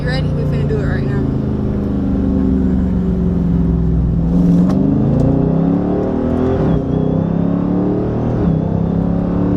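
Car in the GTA video game drives and revs, engine tones rising and falling over a steady drone, with a person talking over it.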